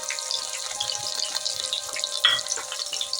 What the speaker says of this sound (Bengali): এটা আমি একটু নাড়াচাড়া করে নেব, হালকা করে একটু ভেজে নেব।